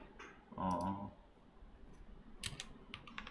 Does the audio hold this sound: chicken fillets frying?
no